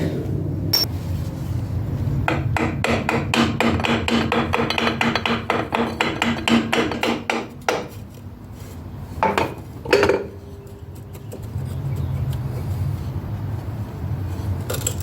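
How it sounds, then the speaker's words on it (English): Rapid metallic tapping and clanking as a hammer works a stuck pulley off a Cub Cadet 1042 riding lawn mower, in a dense burst, then a few separate heavier knocks. The strikes are close and loud, and no one speaks. "Grab the hammer and see if we can coax it out."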